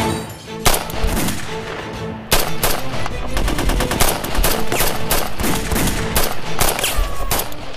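Sustained automatic gunfire in a TV action drama, loud, rapid bursts of machine-gun shots hammering almost without pause, with sharper cracks standing out among the rattle.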